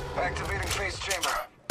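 Rapid gunfire bursts from a firefight in the mobile battle royale Apex Legends Mobile, loud and dense, mixed with game character voice lines, dropping briefly before a sharp final shot.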